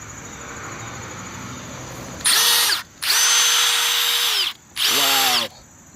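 Milwaukee One-Key cordless impact driver running on its fourth power setting: three loud, close bursts of rapid hammering whir, the second longest, separated by short pauses over a quiet background.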